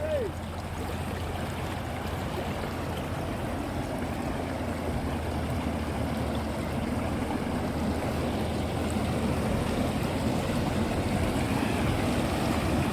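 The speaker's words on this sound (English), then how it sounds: "The water is flowing from that side. It's flowing. So it's flowing down to the dam." Water flows downstream toward a dam at a construction site, a steady rushing wash that holds at an even level through the whole stretch, with no clear talk over it.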